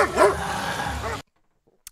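A dog barks a few times up close in a single loud burst, then the sound cuts to near silence with a faint blip at the end.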